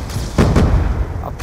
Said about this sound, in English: great bomb.